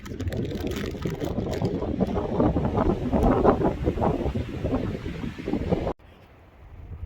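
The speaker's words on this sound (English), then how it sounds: "this wind is something else" Strong gusty wind roars across the exposed summit of Mt. Rose under clear skies, a loud broadband rush buffeting the microphone steadily for about six seconds before dropping off abruptly to a quieter, lighter breeze.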